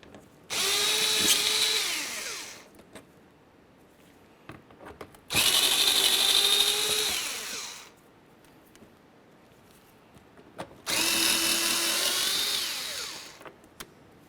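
A cordless power tool whirs in three bursts of about two seconds each, backing out the 7mm-headed bumper cover mounting bolts in the wheel well of a 2005-2010 Chevrolet Cobalt, with quiet pauses between.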